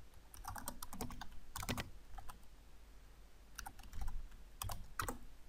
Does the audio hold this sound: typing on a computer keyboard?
yes